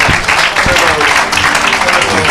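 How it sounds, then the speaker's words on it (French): A church congregation applauds and cheers loudly in a dense, sustained wash of clapping with voices mixed through it, close and filling the room. "Acclame."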